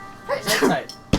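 A sharp, loud sneeze bursts out at the very end, right after a stretch of conversational talk during a tabletop Dungeons and Dragons game session.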